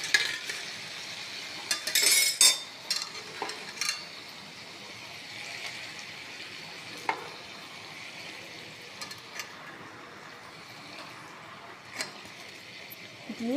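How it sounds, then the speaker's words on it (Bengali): Fried paneer pieces go into a pan with whisked sour curd and are stirred: a soft, steady sizzle with scattered clinks and scrapes of a utensil, loudest near the start. "এর মধ্যে আমি পনির ভাজাগুলো দিয়ে দেবো।"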